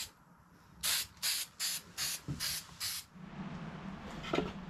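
Rust-Oleum metallic spray paint being sprayed on hubcaps in cold weather comes as six quick hissing bursts in a steady rhythm, close by, followed by quieter rustling and one brief later hiss.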